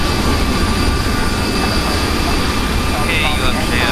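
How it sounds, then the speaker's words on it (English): An airliner jet engine spools up in Microsoft Flight Simulator 2020, a steady loud whine and rumble filling the whole stretch with a rising tone near the end, a voice speaking over it. "Start engine 2. Starting engine 2."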